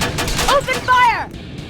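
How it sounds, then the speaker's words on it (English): Rapid gunfire rattles in a shooter set in the Terminator: Resistance world, loud and continuous under shouted voices and combat noise, fading out near the end. "Open fire!"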